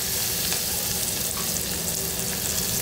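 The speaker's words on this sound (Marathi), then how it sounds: "हे सगळं मंद आचेवरती फोडणी द्यायचं, नाहीतर मग हे लसूण लगेच करपतं" Garlic, coriander and cumin sizzle in hot tempering oil, a loud, dense, continuous crackle with faint stirring taps.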